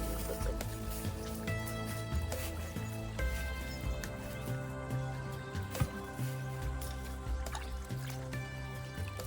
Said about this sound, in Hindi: उस भट्टी से भाप बनकर इस घड़े में महुए का रस गिर रहा है